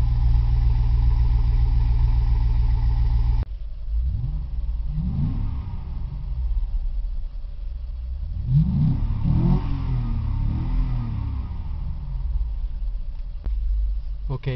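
A 2003 Chevrolet Tahoe fitted with a Borla exhaust idles with a deep, steady rumble, then revs up in two distinct bursts that rise and fall, heard up close and loud.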